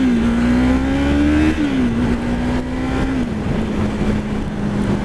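A Yamaha MT-03 321cc parallel-twin motorcycle engine accelerating under load, its steady droning note climbing, then shifting down and holding as it continues pulling, loud and close throughout with wind noise.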